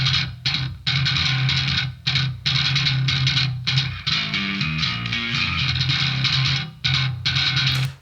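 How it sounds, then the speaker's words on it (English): Aggressive, in-your-face bass guitar tone played through an amp, loud and gritty with dense distorted upper harmonics, chugging in repeated bursts separated by short gaps, a melodic run in the middle, no talk. "So my bass tone actually sounds like this through the amp."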